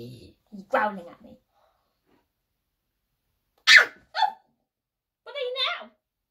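A dog growls and barks in a few short, sharp bursts separated by quiet gaps, close and fairly loud, with no talking.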